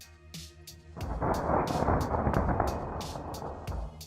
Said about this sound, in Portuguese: Veja como uma descarga elétrica ataca um foguete Soyuz.